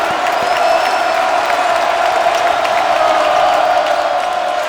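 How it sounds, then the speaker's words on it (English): A sustained roar from the home crowd in a college basketball arena during Kentucky vs Missouri, loud and even, with scattered whoops and claps over a constant wash of cheering. "That gets the Como crowd back up and roaring."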